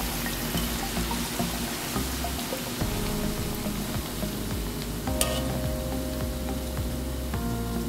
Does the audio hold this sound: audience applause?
no